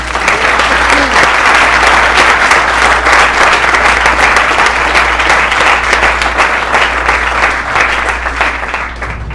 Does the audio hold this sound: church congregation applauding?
yes